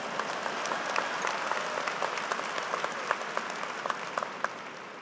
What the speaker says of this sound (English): you can applaud for Taylor Swift